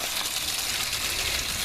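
Water gushes steadily from a tap or hose into a bucket, a continuous close hiss of rushing flow with no talk.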